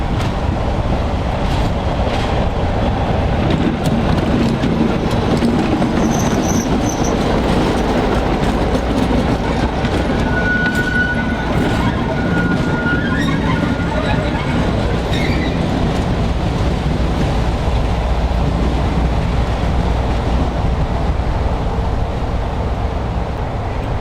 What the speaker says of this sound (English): our final run northbound to Ramsbottom sidings was behind the Class 33